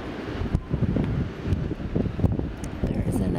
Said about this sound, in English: it's another windy day out in English Bay